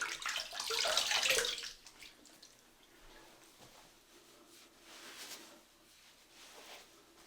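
Water runs from a tap to rinse a Gillette Sensor cartridge razor during a wet shave, louder briefly at first, then settling into a faint, steady trickle with soft splashes.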